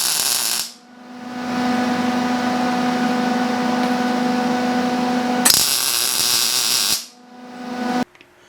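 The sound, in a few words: welding brake parts on Predator 212 go kart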